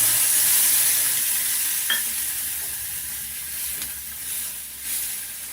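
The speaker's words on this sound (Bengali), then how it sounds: "একদম এই ছোট্ট বাটিটার এক বাটি জল দিচ্ছি" Water poured into a pan of frying shrimp masala gives a steady, moderately loud sizzle and hiss up close, with a brief clink and faint stirring, and no one speaking.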